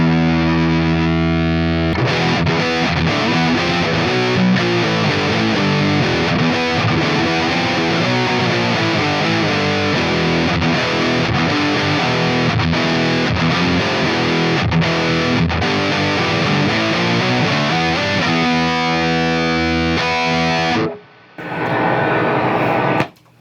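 A Revv G20 guitar amplifier, turned all the way up, blasts loud, distorted guitar playing for about twenty seconds. It then cuts out briefly and stops, ending in near silence.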